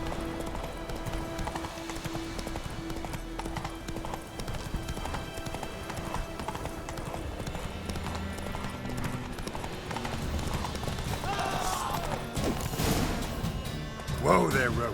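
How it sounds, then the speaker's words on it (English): Horse hooves clip-clop steadily in The Witcher 3 as the rider travels on horseback, mixed under game music and a voice speaking, with a brief burst of louder noise near the end. "Whoa there, Roach"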